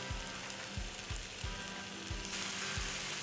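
A pan deglazed with cognac after searing beef, a soft steady sizzle and hiss with low thumping knocks at regular intervals, fairly quiet and close.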